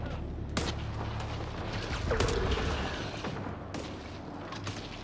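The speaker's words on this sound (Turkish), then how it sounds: "Kafa karıştırıcı olmuş o patlama sesleri" Explosions in the video game Mass Effect Andromeda: a few sharp, distant booms and blasts spaced a second or two apart over a rumbling battle backdrop.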